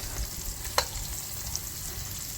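Red onions spooned into a hot pan for teriyaki chicken, giving a steady close sizzle with a sharp clink of the spoon near the start and a faint tap later.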